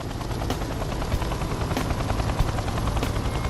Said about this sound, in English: There are more of the helicopters flying offshore here than anywhere else in the world